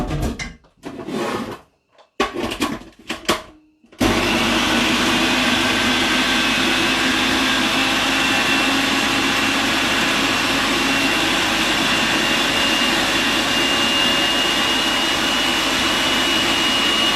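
A kitchen blender starts up after a few brief clatters and then runs steadily, a loud continuous motor whir with a broad, gritty roar that holds unchanged for over twelve seconds.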